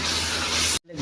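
Steady, loud hiss of ingredients hitting hot oil in a frying pan for a broth curry, cutting off abruptly near the end, then quieter sizzling.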